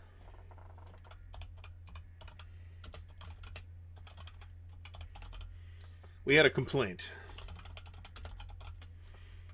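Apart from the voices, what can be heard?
typing on a computer keyboard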